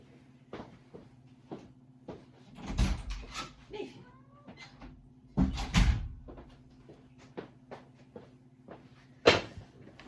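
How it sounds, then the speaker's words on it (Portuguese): A house door opens to let a cat in, with scattered knocks and clatter of the door, a cat meowing nearby, and a steady low hum underneath; no talk. "Eu vou abrir a porta para o meu gatito."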